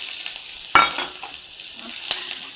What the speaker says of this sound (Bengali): পেঁয়াজগুলো একটু ভালো করে ভাজা ভাজা করে নেবো